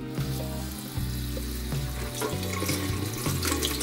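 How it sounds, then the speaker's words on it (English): Running water from a kitchen tap pours steadily over freshly cooked mud crabs being cleaned, a continuous close splashing wash with no talking. "running water."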